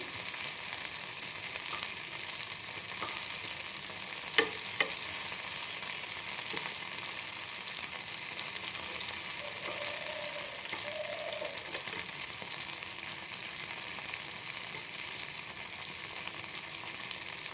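Prawns shallow-frying over low heat while being turned in the pan for chilli prawns; a continuous soft sizzle fills the clip, with a few small clinks and scrapes early on and no voices.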